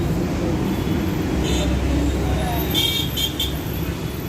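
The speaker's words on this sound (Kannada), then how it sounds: "ಟ್ರಾಫಿಕ್ ಇದೆ ನೋಡಿ" Steady road traffic in the KR Puram area of Bengaluru, with private buses and cars passing; a constant engine rumble fills the scene while a couple of short horn toots sound around the middle and near the end.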